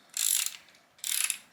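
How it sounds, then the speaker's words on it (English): Two short mechanical clicking bursts, about a second apart, from a torque wrench tightening timing chain guide bolts to 10 Nm on a Mitsubishi Evo X / Ralliart engine; close and fairly quiet, with no talking. "So firstly we'll torque these guide bolts up."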